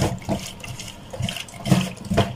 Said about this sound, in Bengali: বেগুন আলু ধুয়ে নিচ্ছি।